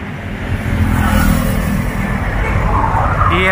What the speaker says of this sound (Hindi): आवाजाही काफी चल रही है